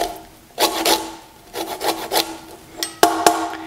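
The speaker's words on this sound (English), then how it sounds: "Now this is even a bigger one, also a cheese grater, type of handheld cheese grater." Citrus zest grated on a large handheld cheese grater, heard as close, rasping scrapes in short bursts of strokes separated by brief pauses, with no talking.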